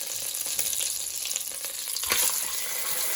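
A tortilla is dipped into a hot pan of oil for red chicken enchiladas, raising a bright, continuous sizzle that swells briefly partway through, with no one talking.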